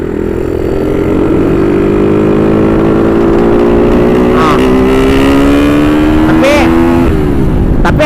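A bored-up Suzuki Satria FU motorcycle with its stock exhaust is throttled hard from a high gear on an open road. The engine drone rises steadily in pitch and is loud and close, with wind rush and brief other noises over it.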